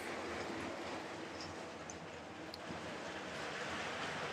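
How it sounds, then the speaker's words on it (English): LEGO toy train runs along its track with a steady, close rolling rumble and faint clicking, continuous throughout with no talk. "And it's just nice to have a train running in your city."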